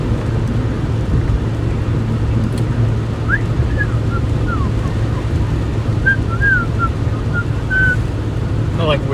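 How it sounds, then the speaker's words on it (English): Person whistling a few short, thin notes inside a vehicle during a storm chase, faint and intermittent over a loud, constant road and engine rumble. "I like whistling, it makes me happy."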